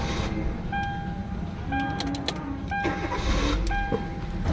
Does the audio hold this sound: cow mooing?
no